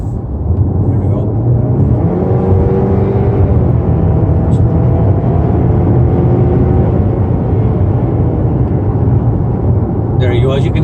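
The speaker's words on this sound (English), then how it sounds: "I'm just going to add the acceleration. You guys can hear the engine." A 2020 Chevy Equinox turbo engine pulls hard under full-throttle acceleration, a loud continuous drone with rising tone and heavy road and wind roar, no words spoken.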